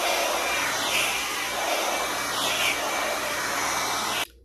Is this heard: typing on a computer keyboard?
no